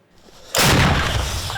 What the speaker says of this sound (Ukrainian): Це розрахунок гармати Л-119 невпинно б'є по окупантах.